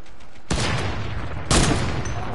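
Two loud, sharp gunshots in a shooter video game, likely sniper rifle fire, about a second apart, each with a sudden hard onset and a sustained roaring tail over steady background noise.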